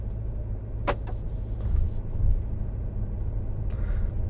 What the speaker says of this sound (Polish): ruszam z totalnie zimnego silnika i czuję, że jest na dość wysokich obrotach